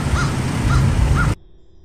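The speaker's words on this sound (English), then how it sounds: "this crow in the parking lot was feeling the spooky vibes" Crow in a parking lot cawing three times in a steady rhythm over a loud, rumbling outdoor background, then the sound cuts off abruptly to near silence.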